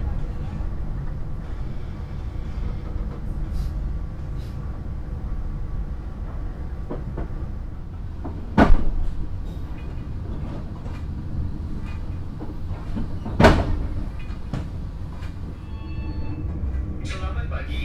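Economy-class KA Dharmawangsa passenger train on the Jakarta–Surabaya run, heard as a steady rolling rumble with two sharp clunks partway through and faint voices in the background.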